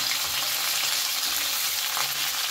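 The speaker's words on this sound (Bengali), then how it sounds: "শিমটা দিয়েও বেশ ভালো করে নাড়াচাড়া করে নেব কয়েক সেকেন্ড" Cut beans and potatoes stir-fried in a pan over medium flame, giving a steady, even sizzle with a faint scrape of stirring, brief and continuous with no voices.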